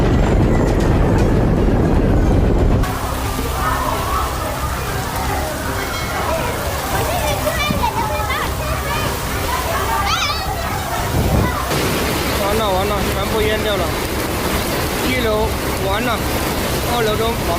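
Floodwater that broke through a riverbank surges through a residential area during a flash flood in China. Loud, continuous rushing and sloshing water runs throughout, with a voice speaking over it.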